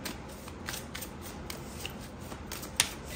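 Tarot cards rustle and slide as one is drawn from the deck, soft papery flicks and shuffles close by with a brief sharp snap near the end.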